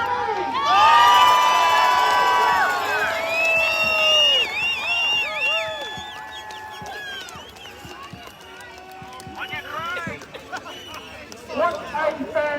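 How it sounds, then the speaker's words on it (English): At a protest rally in Melbourne, a large crowd cheers, whoops and shouts loudly at first, then fades into scattered calls and chatter before swelling again with further shouts. "What a fantastic crowd!"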